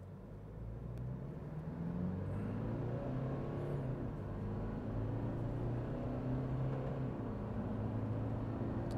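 Toyota Prado VX in sport mode accelerating hard from standstill toward 100 km/h, a steady loud engine drone with rising, stepping pitch through gear changes and constant road rumble, no talk.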